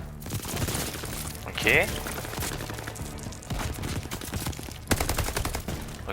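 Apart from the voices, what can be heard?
gunfire in video game Call of Duty Vanguard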